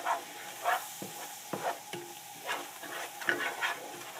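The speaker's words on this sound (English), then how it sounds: "We're going to stir it and see what consistency we have here." Flour being stirred into a thin meat gravy in a non-stick skillet: a run of soft, repeated scraping strokes against the pan, close and moderately loud, over a faint steady sizzle, with no talking.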